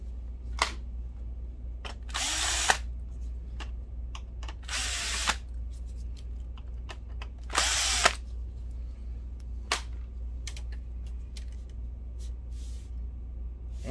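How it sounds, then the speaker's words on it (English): A power screwdriver backs screws out of the metal plate on an Optoma TH1060 DLP projector, running in three short whirring bursts with small clicks and taps between them over a steady low hum, close and alone. "So let's get these screws out so we can take that metal plate off."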